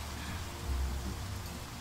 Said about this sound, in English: the rain has fallen